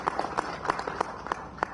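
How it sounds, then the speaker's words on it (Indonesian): An audience claps for the head of BNN, Indonesia's national narcotics agency, at a press event: a short, sparse, fairly quiet patter of hands with a few distinct claps spaced apart. "kita tepuk tangan untuk Kepala BNN"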